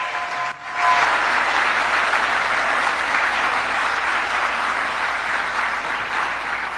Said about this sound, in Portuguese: E o público aplaude efusivamente